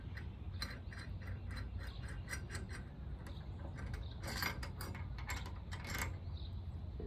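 A ratchet wrench tightens a bolt on a vehicle mount in a fabrication shop, making a quick series of faint clicking bursts in uneven runs over a low background hum.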